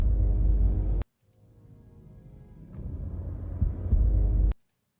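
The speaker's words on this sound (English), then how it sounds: "throughout the cutscene, we kind of have the sound effect of like a heartbeat" Heartbeat sound effect from a World of Warcraft cutscene, a deep low throbbing pulse that swells gradually from quiet to loud, framed by abrupt cuts and no talking.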